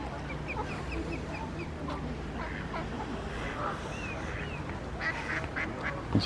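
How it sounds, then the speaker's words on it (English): Ducks quack intermittently at a distance in a park over a constant outdoor background, with some clucking calls. "There's quite a lot of ducks about today."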